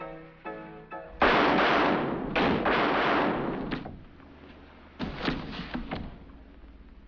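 A gunshot rings out in a 1942 film scene, a loud sharp blast followed by echoing reports and a few more bangs later, with no talk.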